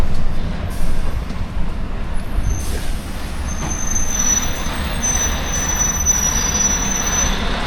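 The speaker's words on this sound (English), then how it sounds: "Squeaky brakes." Brakes on a DAF truck carrying a lowloader squeal near a toll junction. The high, thin squeal rises in the second half over a steady low rumble of engine and road noise.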